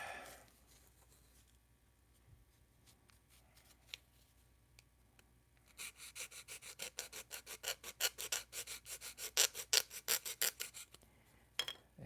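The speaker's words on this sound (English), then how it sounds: "Better yet, sand it off." A part is sanded by hand: a quiet stretch with a few faint scrapes, then a run of rhythmic, rasping back-and-forth strokes, close and fairly loud, roughly a dozen in quick succession.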